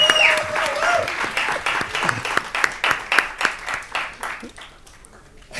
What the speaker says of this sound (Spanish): yo sé que Ramiro lo hace a propósito para que lo aplaudamos.